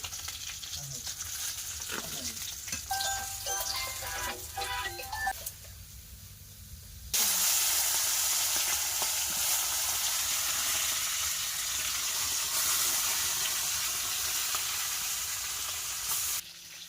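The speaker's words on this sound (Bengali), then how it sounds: "মাছ ভাজা হয়ে গেছে মাছ ভাজাটা তুলে নেব" Fish caught from a home pond, frying in hot oil in a Sundarban village kitchen: steady loud sizzle that jumps louder partway through and holds, with faint talk and clatter early on.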